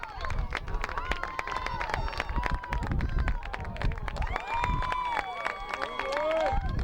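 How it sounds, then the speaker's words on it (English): Home crowd at a 1998 Iowa high school state championship soccer match between Urbandale and Bettendorf roars steadily after an early goal, a sustained wall of cheering and shouts with scattered claps and whistles throughout. "good noise from the Urbandale crowd because of the quick goal"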